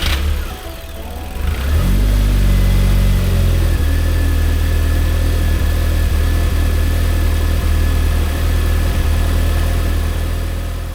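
A four-cylinder car engine, coil packs just refitted, cranks and fires about two seconds in, briefly revs, then settles into a steady, close idle that runs to the end with no talking.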